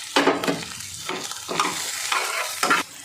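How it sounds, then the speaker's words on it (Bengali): Capsicum, green chili and bay leaves fry in a pan, a close, loud sizzle broken by several rhythmic scraping stirs of a spatula, with no talking. "ক্যাপসিকামটাও একটু 2 মিনিট ভেজে নেব।"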